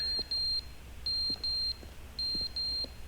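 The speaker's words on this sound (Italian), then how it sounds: "il bip che non si capisce che cacchio sia." An unexplained electronic beep sounds in the video game Stanley Parable Ultra Deluxe on PS5, a steady high tone repeating in three pairs of short bursts over a low background hum.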